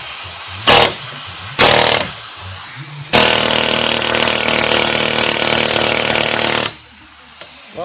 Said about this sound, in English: Hopefully we can just air chisel it off and get the whole thing out of here.